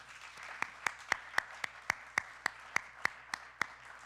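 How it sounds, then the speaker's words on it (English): Audience applause at a career and purpose talk: steady, evenly spaced claps, sharp and fairly faint, sounding like only a few people clapping, with no talking. "Let's keep that round of applause going for Hassan Akmal."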